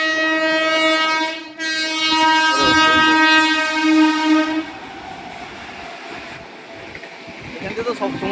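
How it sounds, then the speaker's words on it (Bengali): A train passes on a railway line at Hooghly, its horn blaring loudly and steadily for several seconds, then giving way to rumbling wheels and rattling cars, with a voice talking at points. "এখান থেকে তো সবসময় ট্রেন যায়"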